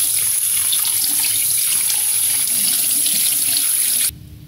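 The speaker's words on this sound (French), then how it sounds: "vous avez besoin d'un petit peu d'eau pour rincer l'intérieur également" Tap water runs in a steady, close hiss as the inside of a gutted fish is rinsed, then cuts off abruptly near the end.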